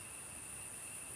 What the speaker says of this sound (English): The cicadas are loud.